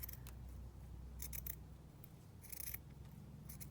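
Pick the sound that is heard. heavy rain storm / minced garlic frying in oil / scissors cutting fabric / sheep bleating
scissors cutting fabric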